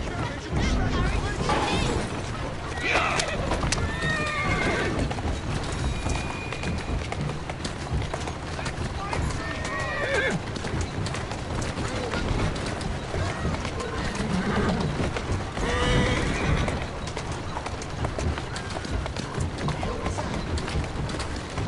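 A horse in the Assassin's Creed Syndicate video game whinnies and clops along amid loud street bustle and game noise, with voices talking throughout.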